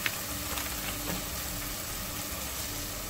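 Vegetables sautéing in a pan with all-purpose and barbecue seasoning for an ackee pizza, giving a steady, soft sizzle close by with faint stirring and no talk.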